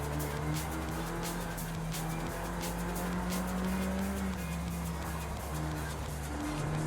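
A McLaren racing through corners in Forza Horizon 5 holds a loud, continuous engine drone that rises and falls, with tires squealing against a busy racing backdrop.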